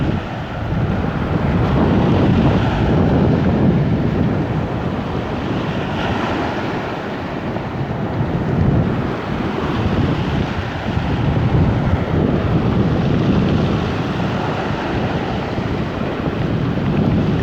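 A headwind blows hard across a river mouth, a continuous broad roar of gusts buffeting the microphone and rising and falling in waves, with no talking.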